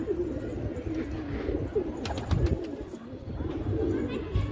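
Pigeons coo softly in low, rolling murmurs that repeat throughout at a pigeon house, with faint rustling and a few brief higher sounds mixed in.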